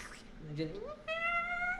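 A voice mimics an angry cat, moving from a low growl into a rising, drawn-out yowl that holds steady at the end, close and fairly loud.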